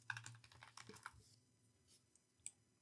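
Quick bursts of keystrokes on a computer keyboard, faint and close, with a clustered run of taps at the start and a few scattered clicks after, no talking.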